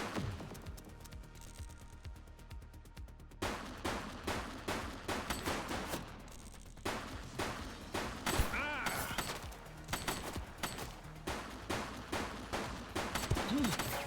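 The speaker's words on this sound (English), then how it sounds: "He's shooting!" Repeated bursts of gunfire from a suspect in the police video game The Precinct, sharp shots crackling in rapid clusters over a steady background, with someone talking over parts of it.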